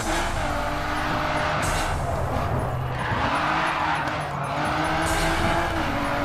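A roaring Aston Martin race car engine in the video game Grid 2 revs continuously, with tire noise and brief surges, loud and close throughout.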